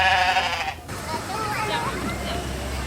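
A sheep bleats loudly and close at the start amid a county fair sheep show, then crowd babble and chatter from people nearby continue beneath.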